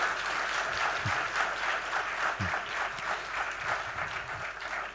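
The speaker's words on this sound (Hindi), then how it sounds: "तो जोरदार तालियां हो जाए सबके लिए।" Audience applause at a thanksgiving ceremony closing a youth retreat at St. Xavier's College, steady dense clapping sustained evenly for the whole stretch at moderate distance, with no voices over it.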